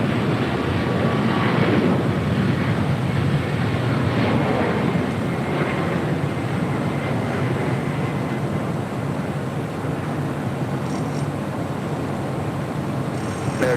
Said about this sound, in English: Airbus A220-300 with Delta